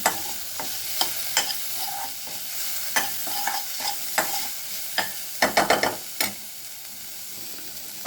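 Garam masala and spices stirred into a sizzling pan for ragda chaat: a soft background fry with repeated sharp scrapes and clacks of the spoon, clustering into a quick burst of strokes near the end, with no voices.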